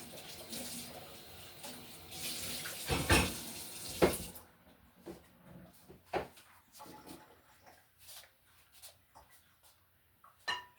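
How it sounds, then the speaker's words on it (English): Tap water runs over a blender being rinsed out in a home kitchen, a few seconds of steady rushing water followed by quieter clinks and splashes as it is handled. "I'm gonna be using the blender again, so let me just rinse it out."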